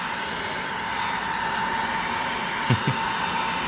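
A blower drying wet puppies hisses steadily and loudly throughout, with a couple of brief soft knocks near the end.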